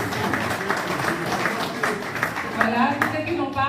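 Audience applause at a formal gathering as a guest is asked to stand, scattered clapping of moderate loudness under a speaking voice, continuing steadily throughout.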